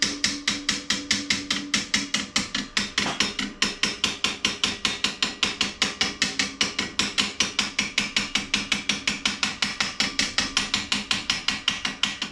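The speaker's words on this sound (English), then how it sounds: "I'm gonna take this hammer. They call it a tack hammer" A small tack hammer taps stainless steel car trim in a steady, quick rhythm, dozens of light ringing strikes close up with no talking.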